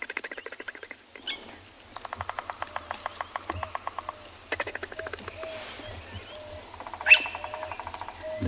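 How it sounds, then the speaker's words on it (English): A bearded woodpecker taps out rapid, evenly spaced bursts of ticks at dawn in the African bush, with a second answering tapper in a different tone, amid faint birdsong and a sharp chirp. "Can hear a bearded woodpecker going tick,"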